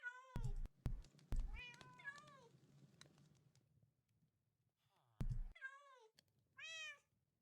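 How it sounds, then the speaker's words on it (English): Cats meowing in the Minecraft video game, several separate high, wavering meows with a few sharp clicks or taps, fairly close and clear against near silence. "get used to the sound of those cats"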